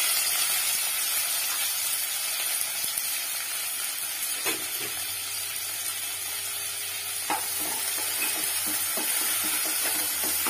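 Chopped onions with green chilli, capsicum and curry leaves sizzle steadily in a pan for an egg stir-fry, with a few scraping stirs of a spoon over the constant frying hiss and no talking.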